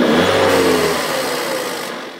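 VW Passat B7 or B8 turbo engine revved by pressing and releasing the accelerator, a loud close rise in engine tone that quickly falls away as the revs drop back, no talking.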